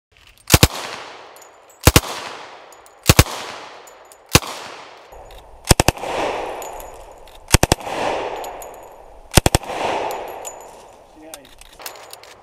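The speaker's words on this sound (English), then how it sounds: "This is the proper way you utilize an automatic weapon" A Tommy gun acquired by a county sheriff's office in the late 1960s fires short automatic bursts, eight sharp, loud volleys spaced roughly every second and a half, each followed by a ringing echo that decays before the next.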